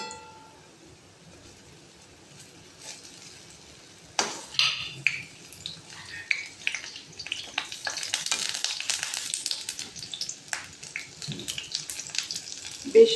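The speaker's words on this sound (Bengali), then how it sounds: "বড়াগুলো এক পিঠ ভাজা হয়ে গেলে আমি উল্টে দেব।" Lentil fritters (bora) frying in oil, a soft crackling sizzle that swells after a quiet start, with occasional utensil clinks close by and no talk.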